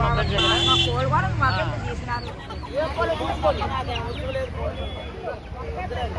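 Several country chickens cluck and squawk in quick, overlapping bursts nearby at a tribal village market while people talk over them.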